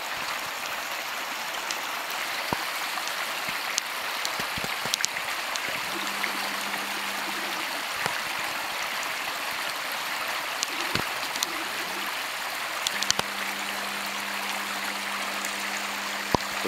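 A stream in the taiga flows in an even, steady rush throughout, with occasional faint clicks and a low hum in the background, and no one speaks.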